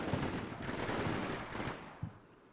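Distant combat gunfire: a dense, rumbling spread of shots and bursts, fairly faint, easing off and ending with one sharper isolated report.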